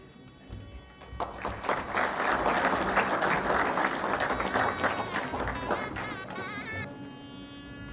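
Sustained audience applause fills a college club inauguration ceremony, a dense wash of many hands clapping that swells after the first second and holds steady, with a voice speaking over it near the end.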